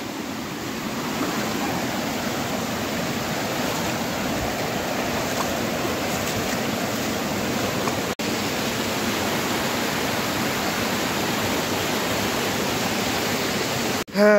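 A waterfall pours in a loud, steady rush of broadband noise that holds unchanged from start to finish, with a faint voice barely showing beneath the roar.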